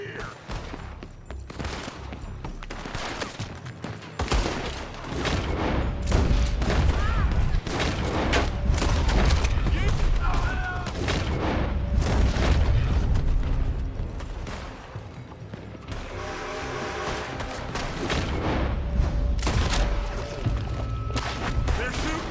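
Dense gunfire in Red Dead Redemption 2, with shooting coming from a building: rapid overlapping shots and booming bursts over a sustained, loud battle din, with voices shouting amid the fighting.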